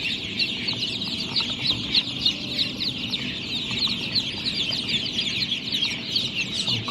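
A brood of newly hatched H'mông chicks keeps up continuous high-pitched peeping, many overlapping chirps close by at an even level throughout.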